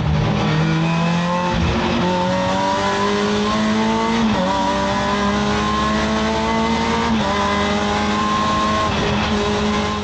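Race cars pull away at the start of the final race of the season, engines revving loud and steady with rising, overlapping tones from several cars close by.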